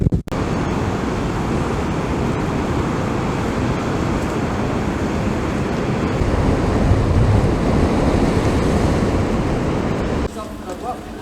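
A continuous roar of storm waves and wind batters the shore at Saltcoats in winter, loud and unbroken for about ten seconds before easing, with a faint hint of voices underneath.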